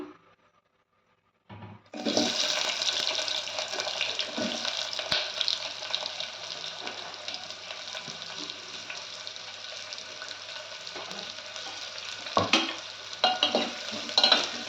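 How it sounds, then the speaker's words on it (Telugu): Onions sizzling hard in hot oil over a high flame for masala vada pulusu, a loud steady frying hiss that starts abruptly after a brief quiet moment and runs continuously, with occasional stirring clatter near the end. "ఆయిల్ హీట్ అయిపోయింది. ఇప్పుడు ఆనియన్స్ వేసేసుకుందాం."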